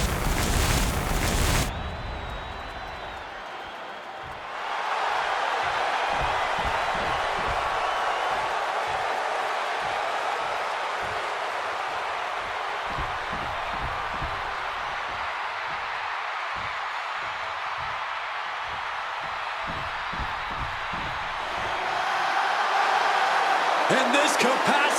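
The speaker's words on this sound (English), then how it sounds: "And this capacity crowd just exploded." Video game wrestling arena crowd in WWE 2K26 roaring for Seth Rollins versus CM Punk, a dense sustained cheer swelling after a brief opening burst, with a commentator talking over it.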